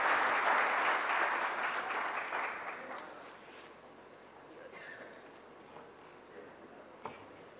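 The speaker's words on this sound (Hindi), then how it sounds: "आप सबकी जोरदार तालियों के बीच मैं निवेदन कर रही हूँ राजकुमार राव जी से" An audience applauds to welcome actor Rajkummar Rao at an Election Commission event. Loud, dense clapping swells at first, then thins and fades within about four seconds, leaving a quiet room with a few small noises.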